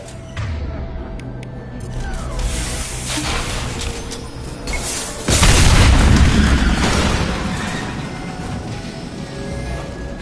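A loud game explosion blows up an enemy tank in a war video game, landing as a heavy boom over steady low rumble and background battle noise, then fading.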